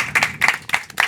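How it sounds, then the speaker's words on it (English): A brief burst of audience clapping at an electronic music event session, a few distinct claps close by, short and uneven. "I would certainly want to give a round of applause to everyone at Elevate Sound"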